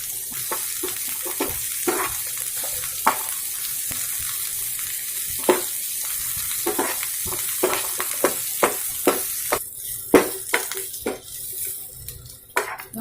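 Onions sautéing in a pan after garlic, a steady sizzle broken by frequent sharp spatula scrapes and clinks against the metal, getting busier toward the end, no speech.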